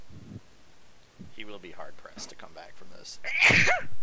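A single loud sneeze bursts out near the end, up close, after a stretch of calm commentary during a Company of Heroes 2 tournament broadcast.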